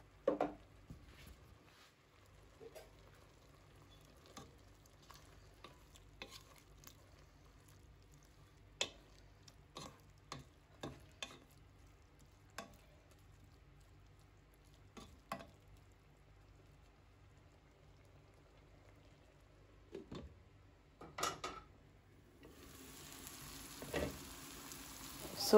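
Vegetable cabbage curry with coconut milk simmers quietly in a pot, with sparse soft pops and bubbles; a louder rustling patch comes near the end.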